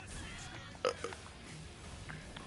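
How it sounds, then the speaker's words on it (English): A single short burp pops out near the middle, faint and close, over a quiet background. "Oh, that was a spicy burp."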